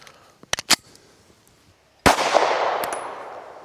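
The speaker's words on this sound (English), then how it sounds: "We're gonna shoot at 15 yards for a group." A handgun with a HEX Wasp optic fires one loud, sharp shot at a target 15 yards away, with a brief ringing tail. Two smaller metallic clicks come a second or so before it, and there is no talk.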